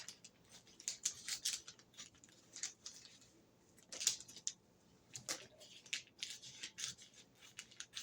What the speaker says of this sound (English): and then I cut along the crease.